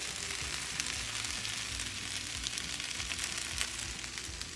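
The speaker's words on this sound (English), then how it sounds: "So I'm just frying them a little bit first." Food fries in a pan with a steady, crackling sizzle, close and moderately quiet, with no talking.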